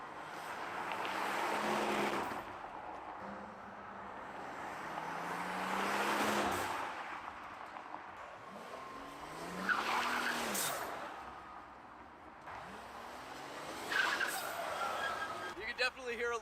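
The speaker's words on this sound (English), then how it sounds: "You can definitely hear a little bit of the blow off there." Turbocharged car heard from outside, engine revving in repeated rising and falling pulls with brief blow-off valve hisses between them, moderately distant with a person talking over it.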